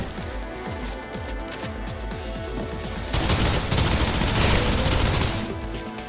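Rapid automatic gunfire in the video game Snowbreak: Containment Zone, first a rhythmic series of close shots, then a denser, louder burst of firing with booming impacts.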